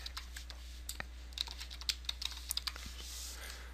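Soft, uneven keystrokes on a computer keyboard as a password is entered, with a dozen or so quiet taps in an irregular rhythm over a steady low room hum.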